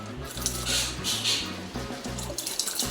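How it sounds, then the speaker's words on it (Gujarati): Dal lentils being rinsed in water in a home kitchen while cooking dal fry, a steady close splashing and trickling wash with a tap-like running flow throughout, no voices. "આ દાળ છે એ ધોઈ લઈએ"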